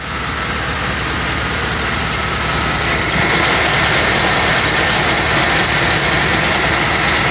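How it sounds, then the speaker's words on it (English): A Chevy Express van with a newly swapped 6L90E transmission idles in gear, giving a steady, loud engine drone that holds unchanged throughout. "now that we've put it in gear and let it run for a couple of minutes"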